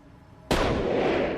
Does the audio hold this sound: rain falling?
no